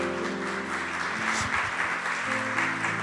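A church congregation claps loudly and continuously, a dense wash of applause filling the room for several seconds.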